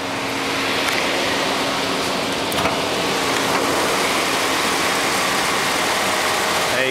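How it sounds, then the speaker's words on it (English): A steady, quiet idle from the 4.7 liter Magnum V8 of a 2003 Dodge Ram 1500 SLT, with a broad even hiss and faint low hum, running continuously without revving. "Let's take a listen to that beautiful engine."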